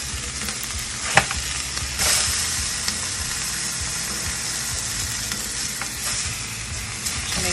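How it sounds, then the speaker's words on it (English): Meat searing in a hot pan, sides turned to brown; a loud, steady close sizzle with occasional sharp pops and scrapes, no voices. "Make sure all the sides get seared"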